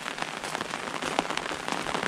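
Rain falls steadily in a rural Thai field area, a dense, even patter of drops striking surfaces, moderately loud and continuous with no voices.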